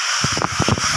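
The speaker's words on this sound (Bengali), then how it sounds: "এবার আমি ওই কড়াইতেই যা তেল ছিল ওই তেলের মধ্যে আমি কালো জিরে ফোড়ন দিয়ে দিচ্ছি" Nigella seeds spit and crackle in hot oil in a wok, a dense steady sizzle with rapid popping, loud and close with no talk.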